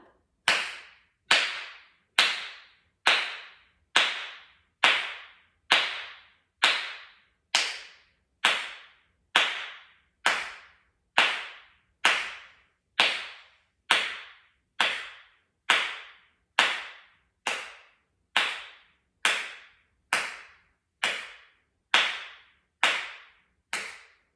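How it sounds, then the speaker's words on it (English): Sharp single hand claps repeated at a steady, even pace, roughly one per second, each marking an exhale during a yoga breathing exercise; crisp, close and alone with no talking. "Exhaling on the clap."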